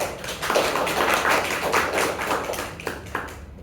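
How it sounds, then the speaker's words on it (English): An audience at a Toastmasters club meeting claps for about three seconds in a moderately loud, dense patter that thins out toward the end. "And thank you for the applause."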